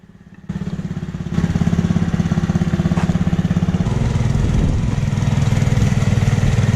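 A restored John Deere 6X4 utility vehicle starts moving on a test drive, its small engine chugging loudly and steadily up close with a rhythmic pulse that rises slightly as it picks up speed.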